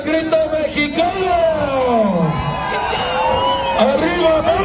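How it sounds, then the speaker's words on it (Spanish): Festival crowd at a Santiago Apóstol celebration shouting the Mexican grito, loud overlapping whoops, yells and rising-falling wails from many voices at once, sustained throughout. "¿Cómo se escucha el grito mexicano?"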